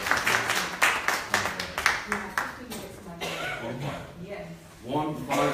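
An audience at a mental health awareness week event claps for a speaker, a scatter of individual claps swelling into brief applause, with voices talking through and around it.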